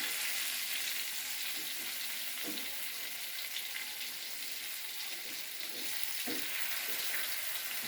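Pangas fish fries in hot oil with a steady, close sizzle, punctuated by a few soft clanks and bumps as the pieces are turned over; no one speaks.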